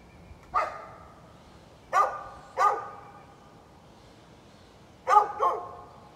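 A neighbor's dog barks outdoors in five short, separate bursts, the last two in a quick pair, carrying at a moderate distance over a low, steady background hiss.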